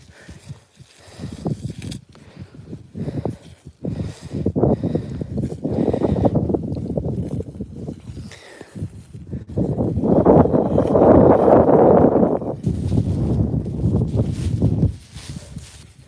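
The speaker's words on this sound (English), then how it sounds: "It is a bit windy." Strong gusty wind buffeting the microphone, rising and falling in loud rumbling bursts with a few faint footsteps.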